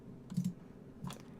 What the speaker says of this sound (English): Slow clicking.